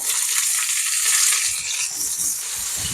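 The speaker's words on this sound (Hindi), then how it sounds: "अब इसी ऑयल के अंदर हम ये प्याज डाल देंगे" Onions dropped into hot oil on a tawa give a loud, dense frying sizzle that stays steady throughout and eases slightly toward the end.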